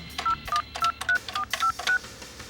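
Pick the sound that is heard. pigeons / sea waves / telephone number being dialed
telephone number being dialed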